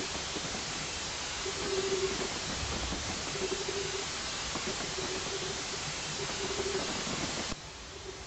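A Bulleid Q1 steam locomotive running in Train Simulator 2015 on the Somerset and Dorset line, a steady broad rumbling hiss with faint repeating squeal tones from the wheels, continuous and fairly loud, dropping away abruptly near the end.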